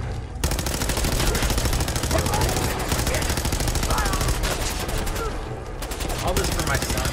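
Continuous automatic gunfire in the Fallout 4 video game, a dense, loud, rapid stream of shots that barely breaks over several seconds, with a voice talking over it.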